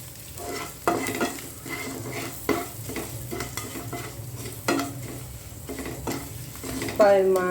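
Cumin powder is stirred into frying masala in a pan for potato fry, with a steady sizzle broken by repeated spoon scrapes and knocks against the pan, all close up and with no talking.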